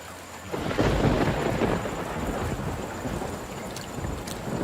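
A thunderstorm beside a pond sends a heavy rumble of thunder rolling under steady rain and gusting wind, loud and continuous throughout with no voices.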